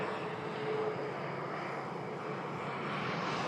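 A Norwegian Boeing 737 MAX jet at Manchester Airport gives a steady, broad engine roar that holds level throughout, rising slightly toward the end, with no talk over it.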